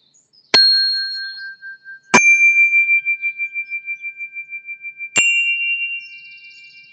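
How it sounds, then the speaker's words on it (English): Chimes struck three times, each a bright metallic ding that rings out with a long, slowly fading shimmer in a quiet room. "but we will invite the chimes"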